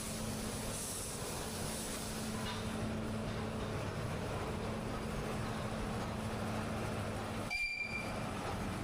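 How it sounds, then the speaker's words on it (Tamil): Ooty mountain toy train, a heritage railway, rumbling steadily as it pulls into the station, with a continuous loud rolling drone of wheels and carriages and a brief hissing burst near the end. "ஊட்டி மலை ரயில் வந்துருச்சுங்க"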